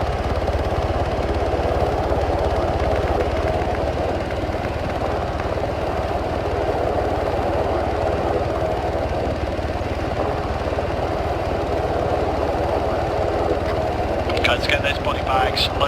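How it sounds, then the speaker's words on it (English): A military helicopter in ARMA 3 drones steadily with a loud, continuous rotor and engine roar, close and unbroken throughout. "Guys, step away from the chopper while it's landing."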